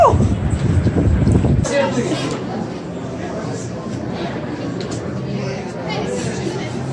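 Strong wind buffets the microphone atop the Seattle Space Needle with a heavy low roar at first, then eases into a steadier rushing noise with faint voices in the background.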